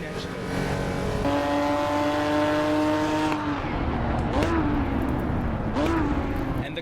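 A racing car engine in the video game Assetto Corsa EVO drones at high revs, holding a steady pitch, then dips and climbs in short revving bursts as gears shift.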